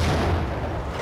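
Shotgun blast in the video game Max Payne, a single loud, heavy boom that fills the whole second with dense low-end rumble and no pause.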